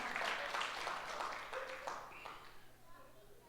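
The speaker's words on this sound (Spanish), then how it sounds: "Dele un aplauso" A church congregation bursts into applause, a loud burst of many clapping hands that gradually thins and fades over a few seconds.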